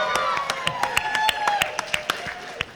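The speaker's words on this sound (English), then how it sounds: "My wife is here listening to you clap." Comic-Con panel audience in San Diego clapping, sharp individual hand claps scattered over a bright sustained tone, moderately close and lively for nearly three seconds.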